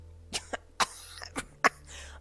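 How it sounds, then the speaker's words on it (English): A close, quiet burst of several sharp, strained coughs in quick succession, irregular and throaty, like someone sputtering. "you choked, desperately trying to swallow your mouthful"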